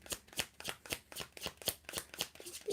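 Tarot cards shuffled by hand, a steady run of crisp riffling snaps roughly every quarter second, close and alone with no talk.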